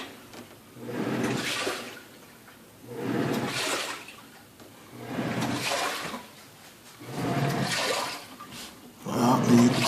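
Water surges in four or five rhythmic gushes from a damaged Magic Chef 1.6 cu ft portable washer leaking from the bottom, each rush swelling and fading, with a brief faint tone at the end.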